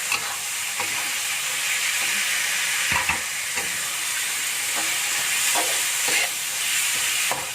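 Liver stirred into sambal spices with tamarind in a hot pan, a steady close sizzle of frying broken by several scraping stir strokes, with no voices.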